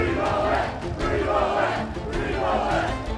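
Large crowd celebrating in the streets of Melbourne, a dense continuous roar of many voices with shouts and cheers rising and falling close by.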